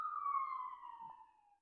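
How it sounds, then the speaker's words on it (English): A passing ambulance siren sounds as a single faint, drawn-out wail that slides steadily downward in pitch and fades out as the vehicle moves away. "there's an ambulance that's about to go by"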